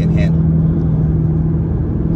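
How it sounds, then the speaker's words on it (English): A Lexus RC-F premium sports coupe takes a turn at speed, its exhaust a steady low rumbling drone heard from inside the cabin, with a brief voice at the start. "You guys can hear that exhaust. It sounds really good."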